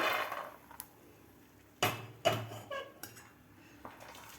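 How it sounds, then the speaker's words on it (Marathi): A few sharp clinks and clatters of roasted peanuts being tipped from a kadhai into a dish, with quieter gaps between the bursts. "आता आपण हे एका डिशमध्ये काढून घेऊया एका डिशमध्ये काढून घ्यायच्यात आपल्या शेंगदाणे"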